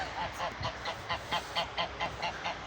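Two ganders honk repeatedly in a quick, regular series of nasal calls on a farm, moderately close and fairly quiet, with no talking.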